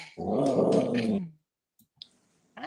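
A dog growls low and close for about a second in a long rumbling snarl, followed by silence and a few faint clicks.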